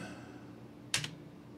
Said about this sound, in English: I'm gonna go ahead and start tapping delete on my keyboard.